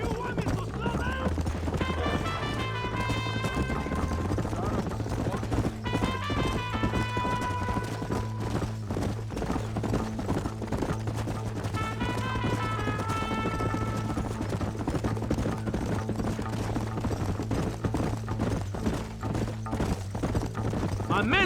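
Horse hooves clip-clop steadily while riding in the Red Dead Redemption video game, running under a continuous music score with occasional voices and a brief whinny.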